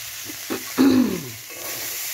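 Vegetables for a Bengali sabji bhaji go into a hot pan, a few scrapes and a sudden burst of sizzling that settles into a quieter steady hiss, close by.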